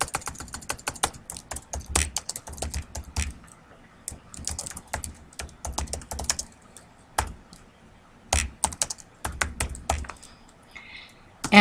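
Someone types on a computer keyboard while entering data into an Excel worksheet, giving close, rapid clusters of key clicks with brief pauses and a few louder thumps.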